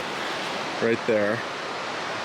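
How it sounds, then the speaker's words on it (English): Kern River water flowing, a steady broadband rush that fills the whole clip, loud and continuous, with a person briefly talking over it. "Right here, it definitely looks like a majestic river."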